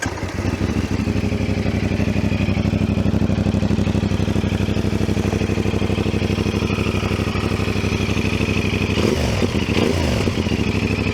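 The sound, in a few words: CFMoto 450SR motorcycle engine starting and idling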